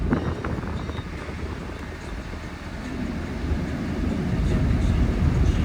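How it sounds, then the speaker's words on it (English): Air conditioning in a Dodge Ram 3500 pickup with a 5.9L HO Cummins diesel blows a steady, broadband rush of air that grows slightly louder toward the end, with no talking. "So let's turn the AC on."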